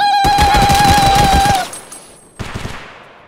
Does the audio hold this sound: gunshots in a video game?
yes